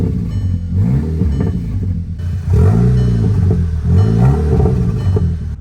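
A Volkswagen Mk6 GTI engine, with the car suffering a water pump coolant leak, runs close by and is revved in several rising and falling bursts over a steady idle rumble.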